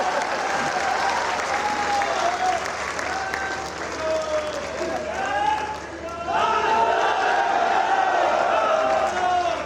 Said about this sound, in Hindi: ताली बजाओ तब तक।